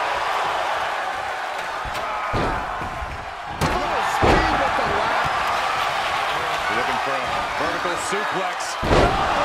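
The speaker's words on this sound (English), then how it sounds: "Suplex." A suplex slam in a wrestling video game during a five-man ladder match: heavy thuds land over loud, excited commentary and crowd noise, with a sharp impact near the middle and another near the end.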